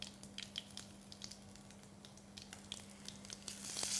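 Ginger paste and garlic paste with leaves sautéing in a pan for a South Indian drumstick curry, a soft, steady crackling sizzle close by with small pops and faint stirring, growing a little louder at the end.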